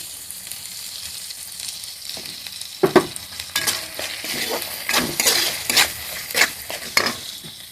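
Ghee hitting a hot pan with green chillies and spice powders for bhog khichuri, a sudden sharp sizzle followed by a crackling, spitting fry and repeated clinks and scrapes of stirring, close and lively.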